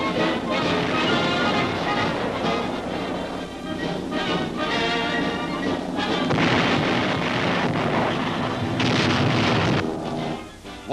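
Wartime bombers pound the Asiatic coast and enemy bases with heavy explosions, a dense, continuous roar of blasts and rumbling booms that swells and stays loud throughout, with no speech.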